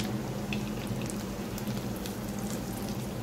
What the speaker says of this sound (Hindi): आपने धीमी आंच पे इनको फ्राई करना है